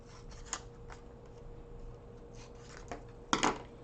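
Scissors snipping out a paper ten-cent dime coin cutout at a table, a few quiet scattered snips ending in a louder, sharper cluster of cuts near the end.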